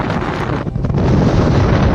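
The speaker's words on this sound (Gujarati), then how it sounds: "હવે મિત્રો પવન બહુ છે" Strong wind roaring and buffeting the microphone, a loud, continuous rumbling gust that briefly eases before surging again; no voices.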